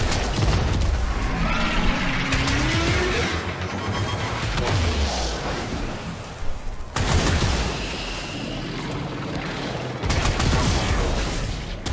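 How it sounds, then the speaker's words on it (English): Rubico Prime sniper rifle in Warframe during an Eidolon hunt: a handful of sharp, loud cracks spread over several seconds above a churning wash of combat noise, whooshes and rumbling effects. "I advise 4 shots. That's the Rubico Prime."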